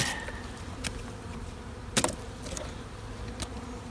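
Honeybees buzz in the brood chamber of a small hive cluster, one deep and one medium box, a dense continuous hum close by with a few soft knocks.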